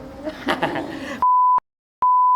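Two pure censor beeps, each about a third of a second, separated by a brief silence, cutting in sharply after a short stretch of casual talk.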